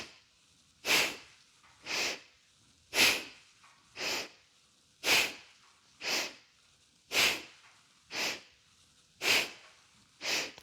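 Slow, deep breaths during a gentle hatha yoga twist, alternating long inhales and exhales, about ten airy, close breaths spaced roughly a second apart with quiet gaps between.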